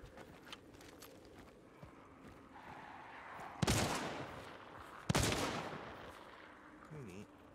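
Two loud, well-spaced pistol shots in Hunt: Showdown, each a sharp crack with a short decaying tail, over a quiet background of faint footsteps and ambient rustle.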